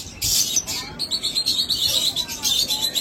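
Yellow mutation lovebirds kept for sale chirp in quick, high, repeated bursts nearby, with a few sharper calls at the start.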